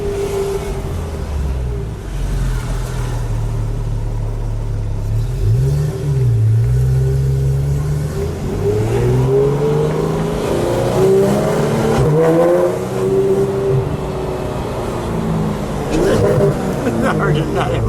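A green 2016 Porsche 911 GT3 RS with its exhaust open, heard from inside as the engine revs and accelerates loudly through rising, falling gear pulls, with someone talking over the engine note throughout.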